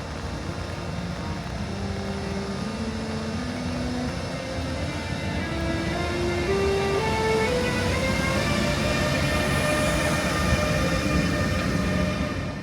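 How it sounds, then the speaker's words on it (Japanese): A Siemens electric locomotive departs Feldkirch station, its inverter producing rising stepped tones climbing like a musical scale over a steady rumble and rail noise. "シーメンス製のドレミファインバーターも相変わらずいい音出してます。"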